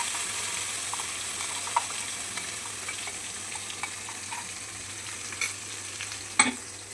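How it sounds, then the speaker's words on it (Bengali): Ginger paste, cumin paste and tomato masala fry in a pan for a jackfruit and prawn curry, giving a steady low sizzle with faint scattered stirring clicks and one sharper knock near the end. "সব একসাথে দিয়ে নুন হলুদ দিয়ে মশলাটা কষাবো"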